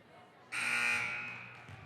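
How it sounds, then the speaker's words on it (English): A loud electronic buzzer sounds at a junior varsity girls' volleyball game in a gym, starting abruptly and holding a steady harsh tone for over a second before tailing off under faint crowd noise. "after the annoying loud buzzer."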